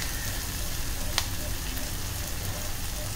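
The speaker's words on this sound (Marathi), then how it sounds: "आता हे आपण शिजवून घेऊया मीडियम टू हाय गॅसवर" Tomato masala for a clams fish thali sizzles and fries steadily in a pan over medium to high gas, a constant close crackle with one brief clink partway through.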